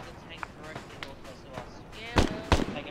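Scattered gunshots and a couple of sharper, louder bangs near the end from a firefight in Arma 3 with a tank nearby, with distant pops spread across the clip.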